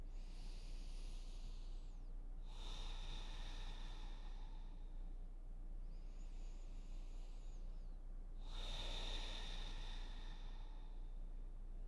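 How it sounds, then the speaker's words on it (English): Two slow, deep breaths during a seated yoga twist, each a long airy inhale or exhale drawn close to the listener over quiet background, spaced several seconds apart. "Inhaling and exhaling here,"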